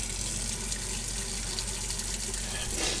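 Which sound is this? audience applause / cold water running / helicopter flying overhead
cold water running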